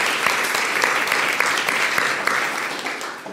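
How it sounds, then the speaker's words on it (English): A room full of people applauds educators at a University of Illinois College of Medicine awards ceremony, dense steady clapping that holds loud for a few seconds and then tapers slightly. "Please offer one more round of applause for these excellent educators."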